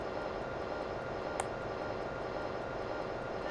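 Yak-40 airliner's AI-25 jet engine spooling up during an air-starter start in a flight simulator, a steady loud broadband roar with a brief high whine near the middle.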